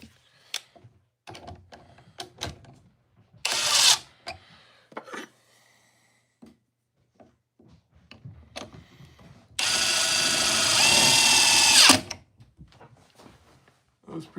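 A power drill drives screws into brand-new wood with no pilot holes, in two loud close bursts: a short one, then a longer steady whir of about two seconds, among scattered clicks and handling noises, with someone talking in between.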